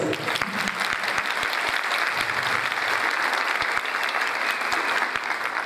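Steady applause from a lecture audience at a holistic conference, a dense wash of clapping that holds evenly throughout with sharp individual claps popping out near the front.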